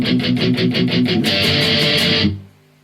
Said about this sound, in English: we're going to be doing a lot of palm muting on the shape we learnt earlier